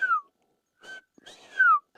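A person whistles an imitation of the Bob White quail call, a few clear rising and falling whistled notes with short gaps between them, heard alone at close range.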